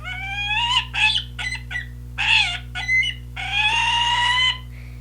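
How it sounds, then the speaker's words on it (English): A falcon's harsh, shrill call in a series of five or six strained, rising cries with short gaps, loud and close over a steady low hum. "Here's a falcon sound."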